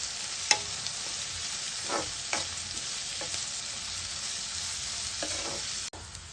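Capsicum pieces, grated carrot, curry leaves and coriander sauté in a pan with a constant hiss, punctuated by several soft stirring scrapes and a sharp knock near the end, close-up and without talk.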